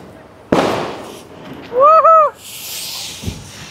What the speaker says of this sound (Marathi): एक फटाका फुटणार आहे आता